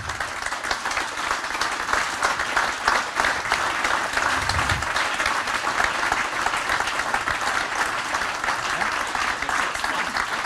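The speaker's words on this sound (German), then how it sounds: "großer Applaus" Sustained applause from a live stage talk-show audience, steady and dense clapping throughout with a brief low rumble partway through.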